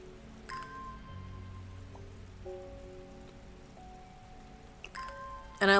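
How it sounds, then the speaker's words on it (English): Steady in-game rain patters on surfaces with soft dripping in Strange Horticulture, accompanied by gentle tonal game music and a few brief chimes. "I like that it's raining in game"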